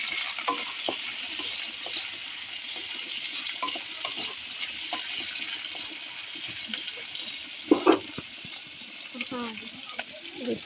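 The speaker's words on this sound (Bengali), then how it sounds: "পেঁয়াজ আর কাঁচা লঙ্কা এই দিয়ে দিলাম।" Onion and green chilli sizzle in a pan at home, a steady moderate frying hiss with occasional stirring clinks and a louder scrape partway through, a voice speaking over it at times.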